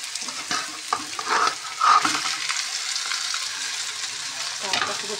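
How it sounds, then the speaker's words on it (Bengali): Rice poured into a pan of frying vegetables gives a steady sizzle with a few louder bursts and scraping stirs in the first two seconds, then continuous frying noise close by. "চালটা পুরো ঢেলে দিব।"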